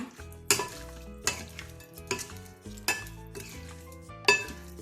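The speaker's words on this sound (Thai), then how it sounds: "ผสมให้เข้ากันอีกทีนึงนะคะ" A Thai spicy seafood salad is tossed in a bowl with a utensil, giving about five evenly spaced, bright metallic clinks and scrapes, close and clear, with quiet gaps between strokes.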